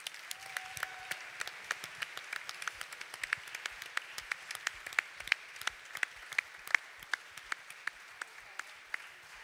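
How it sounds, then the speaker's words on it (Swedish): Sparse, scattered hand claps from a concert audience after the show, distinct individual claps at an irregular pace over a quiet room, fairly faint and distant. "En varm applåd till denna fantastiska publik."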